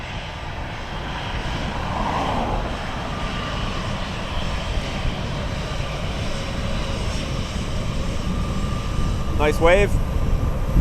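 A British Airways Embraer jet at Dublin Airport heading for London City gives a steady engine drone with a rising roar, while people talk nearby and a brief chirping whistle sounds near the end.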